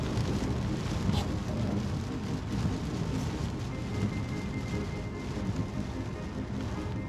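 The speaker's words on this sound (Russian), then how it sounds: "Почти ничего не видно вообще, дождь такой льет, просто дичь." Heavy rain pours down during a drive on a road, a dense, steady roar of water around the car that never lets up.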